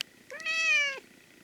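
A pet cat gives a single clear, drawn-out meow lasting under a second, close and fairly loud against a quiet room, with no talking.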